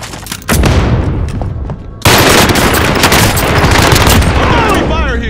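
Enemy gunfire in Call of Duty: Modern Warfare rattles as loud, continuous bursts of automatic fire that swell sharply after a brief lull, dense and close, with voices faintly mixed in.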